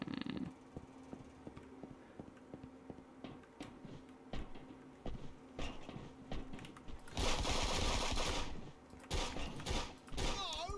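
Rapid gunshots from a sniper rifle and revolver in a competitive shooter game, a string of sharp cracks in a row followed by louder bursts, fairly close and mixed with game noise.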